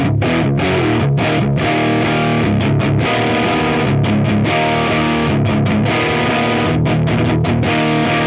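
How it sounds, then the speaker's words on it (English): Distorted electric guitar through the crunch channel of a Line 6 Spider Valve HD100 amp, with a crunchy overdriven tone, chords and riffs played continuously and loud, with brief gaps between strums. "Very much a crunch style amplifier."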